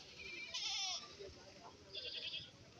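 Goats bleating at a goat market in Kerala where large billy goats are tethered: two loud, wavering bleats about a second apart over crowd murmur and background chatter.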